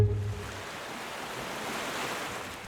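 Sea waves wash in a steady, moderately quiet surf roar with a breezy hiss, continuous throughout and free of any voices.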